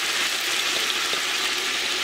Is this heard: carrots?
yes